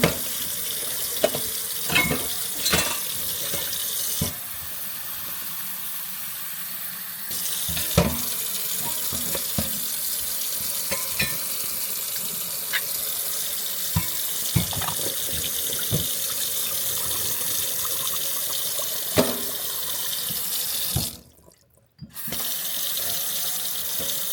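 Tap water runs steadily into a pot at a kitchen sink, a continuous splashing flow with a few light knocks, cutting off briefly near the end before resuming.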